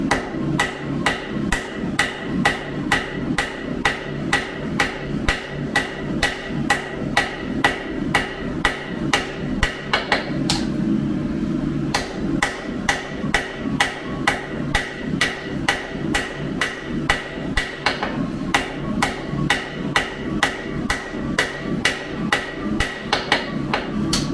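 A hammer forges a steel santoku chef knife blade on an anvil, sounding as loud, evenly spaced metallic strikes in a fast steady rhythm for about twenty-four seconds, with one short pause partway through.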